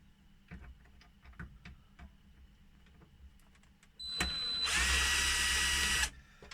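Power screwdriver undoing screws on the lid of a Sanyo VTC 9300 Betamax deck: quiet scattered ticks and clicks, then a loud close whirring burst of about two seconds, heard alone.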